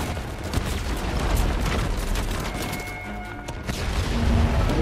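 An explosion blows open a rock crack in the Uncharted: Legacy of Thieves video game, heard as a dense, rumbling blast and debris wash that stays loud and sustained for several seconds.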